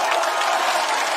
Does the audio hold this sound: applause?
yes